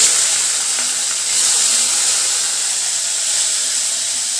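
Curry leaves and onions hiss and sizzle in hot oil with fenugreek seeds for an okra tamarind stew (bendakaya pulusu), a steady broadband frying hiss that holds evenly throughout with no talk.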